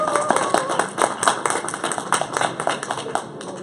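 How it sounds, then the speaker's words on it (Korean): Audience at a political rally in a public square clapping together for young people, a steady crowd patter of many hands with some louder claps throughout, no talk over it. "청소년 여러분께 우리 박수 한번 해봅시다."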